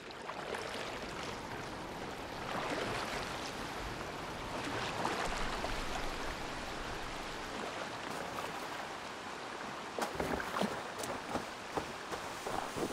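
A boat is rowed across water in Assassin's Creed Valhalla, with a continuous splashing, rushing wash of water and faint knocking. It grows busier and more broken toward the end, with no talk.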